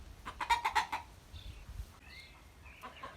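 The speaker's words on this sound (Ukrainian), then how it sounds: "О, півень там кричить десь." A quick burst of free-range chicken clucking close by, then a rooster's faint, higher crowing from farther off in an outdoor village yard.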